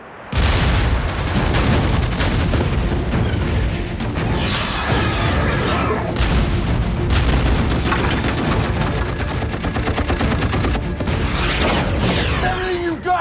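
Heavy artillery fires at a battleship in a loud, dense barrage of booms and rapid gunfire that runs without pause, with voices shouting in between.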